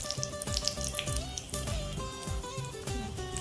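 Bay leaf and spices sizzle in hot oil for a soybean curry, a steady close-up fry with crackling pops and a few soft clinks, with no talk.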